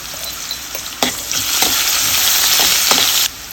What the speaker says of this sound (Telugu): ఆయిల్ వేడైన తర్వాత ఆనియన్స్ వేసేసుకుందాం కొద్దిగా పసుపు